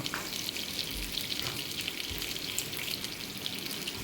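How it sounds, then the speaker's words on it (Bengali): A steady, dense sizzle of onions frying in hot oil continues throughout, with faint crackles and no talking. "পেঁয়াজগুলো দিয়ে আমি একটু ভেজে নেব"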